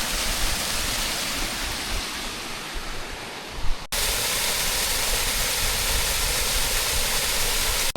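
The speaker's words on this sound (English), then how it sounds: "There's a lovely waterfall." Steady, dense rushing of a waterfall, loud and continuous, with a brief disturbance midway before the roar carries on, near the ruins of Roche Abbey.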